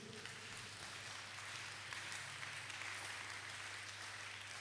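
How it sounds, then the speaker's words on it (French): A church congregation applauding during a worship service, heard as a steady, faint wash of many hands clapping together with a low hum beneath, continuous and distant. "Acclamons pour la gloire de Dieu."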